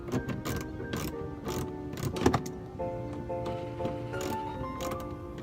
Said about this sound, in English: Let's get rid of the bolts on the side, on the fender well.